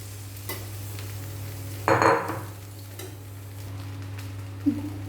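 Cooked rice being stirred in hot ghee in a pan for vegetable fried rice, a low background sizzle over a steady hum, with one brief scraping burst of a spoon against the pan and a small clink near the end.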